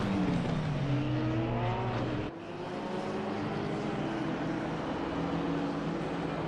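GT3 race cars, among them a Ferrari, in a sim racing game at Indianapolis, their engines roaring loud and close with rising and falling pitch as they pass, one sweeping by in a quick whoosh midway.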